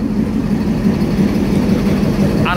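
Nakshikatha commuter train standing at platform 16, giving a steady loud low rumble of an idling engine throughout, with a brief brighter mechanical whine near the end.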